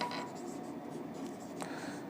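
Pen scratching on paper during a Hindi class lesson, a steady continuous writing scratch running throughout with a brief sharper stroke near the end, fairly close and quiet.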